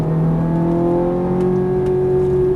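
A sports car, a Ferrari F430 or Nissan GT-R, accelerates on a track, its loud, close engine drone holding steady and edging upward in pitch with no pause.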